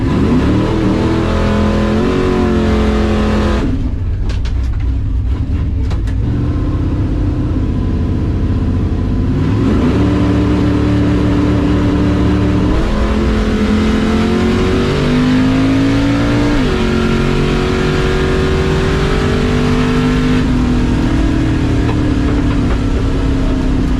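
A drag race car launches and accelerates hard down the strip at a high-altitude track in cooled evening air, its engine roaring loud and steady with rising revs across several gear changes and no talk.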